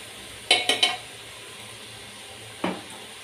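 Ginger garlic paste worked into mutton liver in a pan, with three quick clinking scrapes of a spoon against the metal close together, a soft low sizzle underneath, then one more scrape after a pause.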